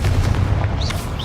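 A short, heavy blast from a Confringo spell in Hogwarts Legacy, a deep booming explosion with thudding low rumble and faint crackle, loud and close.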